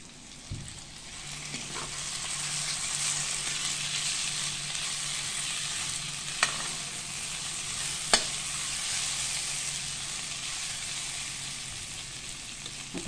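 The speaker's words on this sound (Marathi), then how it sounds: "आता खमंग अशी फोडणी बसलेली आहे आपली." Spices sizzle and crackle in hot oil as a tempering for sambar, a steady close frying hiss with a couple of sharp pops. No voices break in.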